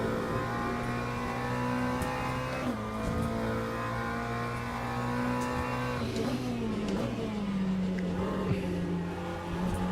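A GT3 race car engine in Assetto Corsa EVO drones steadily at high revs, shifting pitch as the car brakes and accelerates through corners, with faint tyre noise and no voices.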